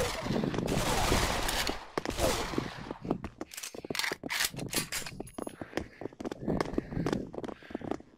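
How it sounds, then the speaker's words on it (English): Gunfire in the VR shooter Pavlov: dense rapid automatic bursts at first, then a string of separate sharp shots and short volleys, loud and close, with a little talk mixed in. "I am getting shot."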